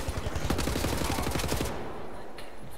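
Rapid automatic gunfire in the video game Wolfenstein: The New Order, a loud burst of closely spaced shots rattling for over a second and a half before cutting off into quieter game ambience.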